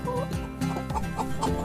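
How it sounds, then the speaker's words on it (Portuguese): A farm chicken clucks in a short run of close, repeated calls, with no voices and nothing else heard alongside it. "Galinha, chicken."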